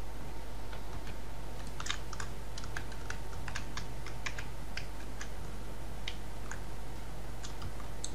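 Clicky computer keyboard typing and mouse clicks during PC gaming, irregular close taps and bursts over a constant low electrical hum, with no speech.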